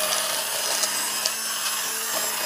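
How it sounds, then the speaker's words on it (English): A hand blender whirs steadily through raspberry curd, a continuous close, even motor drone with a bright buzzy whine and slight wobble, no talking over it. "that's why I like the hand blender. It just keeps it cohesive, breaks down any large chunks, smooths it out."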